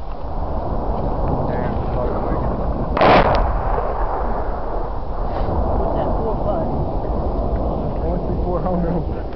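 Friendly artillery lands danger close, a single sharp blast cracking out partway through over steady background noise, with people talking nearby.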